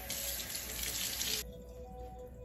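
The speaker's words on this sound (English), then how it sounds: "So finish using it up, rinse out your brush" Water pours from a tap to rinse out a cosmetic brush in a sink, a steady close hiss for about a second and a half before it cuts off to a softer trickle.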